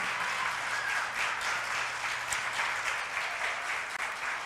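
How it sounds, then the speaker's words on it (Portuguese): Church congregation applauding during a Sunday morning service, a steady, fairly soft wash of many hands clapping heard from a distance and lasting the whole stretch. "Você pode aplaudir a Ele nessa manhã de domingo?"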